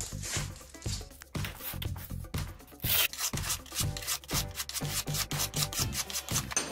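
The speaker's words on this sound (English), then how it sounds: "I'm going to take a file and work this edge along here" A metal file is drawn along the edge of a homemade steel card scraper, guided by plywood, in repeated rasping strokes about twice a second, close and clear.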